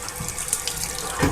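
Water rushes steadily out of a steam boiler during a washout, a continuous close splashing flow like an open tap, with a brief louder gush near the end.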